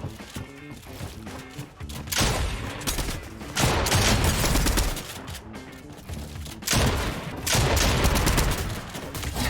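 Dense bursts of rapid automatic gunfire in a shooter video game, loud and continuous in long volleys with brief lulls between them, heavy booming impacts layered underneath.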